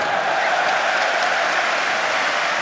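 Applause from a rugby stadium crowd at the 2007 Rugby World Cup match between Ireland and Georgia after a long Georgian kick, a steady, loud wash of clapping with no voices standing out.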